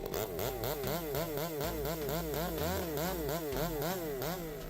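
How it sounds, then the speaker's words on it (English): A Stihl MS 462 chainsaw with a 72.2cc engine cuts into an old-growth tree at close range, its loud buzzing whine rising and falling in a steady rhythm as the engine bogs under load. "This is a close-up of a felling of an old-growth tree with a Stihl MS"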